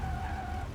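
Airliner tires skidding across an icy runway after touchdown in the X-Plane 12 flight simulator, a steady rumbling scrape with a faint tonal whine above it, unbroken through the short moment.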